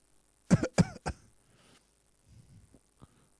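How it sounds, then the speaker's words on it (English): A few sharp coughs in quick succession, close and loud, followed by quieter rustling and one last faint cough. "And if you're hearing the sound of the cough,"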